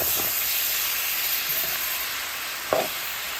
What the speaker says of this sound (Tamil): ஓரளவு தக்காளி வதங்கினா போதும்.